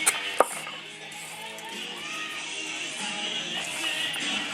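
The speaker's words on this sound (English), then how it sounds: "Chop them in half this way, and then we're going to chop them in half that way." A knife chops carrots on a cutting board in a quiet kitchen, with one sharp knock near the start followed by soft, irregular cuts.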